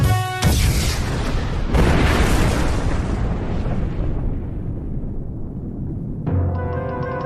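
A cartoon bomb goes off in an animated forest scene, a loud booming blast that cuts in sharply, with a second heavy burst that rumbles and slowly fades before a musical sting.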